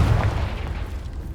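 A Confringo blast spell goes off in Hogwarts Legacy, a single deep booming explosion up front that rumbles low and fades over about a second.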